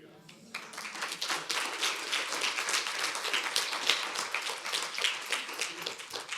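Audience applause breaks out at the end of a talk on women and girls on the autism spectrum, a dense, sustained patter of many hands clapping that holds steady for several seconds.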